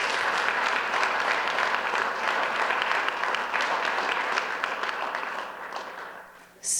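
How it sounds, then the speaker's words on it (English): Audience applause at a town council meeting, steady dense clapping that gradually fades over about six seconds before dying away. "So let's give everybody a round of applause,"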